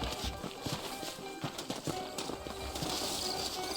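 Saddled horses clip-clop along at a walking pace in the Western video game Red Dead Redemption, hooves landing in an uneven, close rhythm over a soft background.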